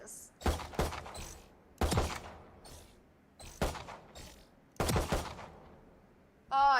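Short bursts of gunfire during Valorant target shooting practice, four loud clusters of rapid shots spaced about a second and a half apart with quiet gaps between, followed by a brief tonal game chime at the end.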